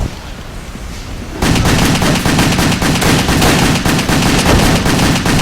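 Continuous rapid gunfire in the video game WET, with loud automatic bursts starting abruptly after a quieter opening and running dense and steady to the end.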